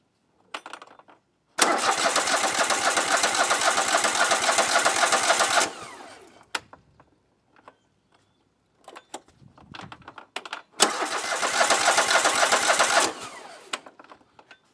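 A John Deere L130 lawn tractor engine is started for winter while a clogged carburetor is suspected. Two loud, close cranking bursts of several seconds each are separated by quiet clicks and handling noises.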